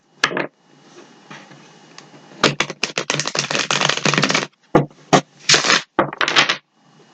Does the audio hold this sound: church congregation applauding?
no